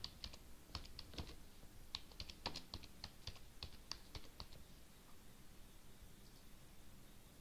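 Keys clatter on a computer keyboard in a quiet room, a quick run of crisp clicks for about five seconds over a soft steady hiss, then only faint background noise.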